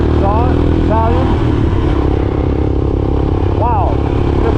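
A Royal Enfield Himalayan dirt bike fitted with an Italian Zarg exhaust revs loud and close, its engine note rising in short bursts over a constant rumble as it pulls away.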